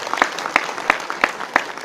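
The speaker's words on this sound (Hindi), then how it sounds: "एक बार आप जोरदार तालियां बजाएं इस महफिल के लिए।" Audience at a mushaira poetry gathering claps in a steady, evenly spaced rhythm of sharp bursts, moderately loud and without talk.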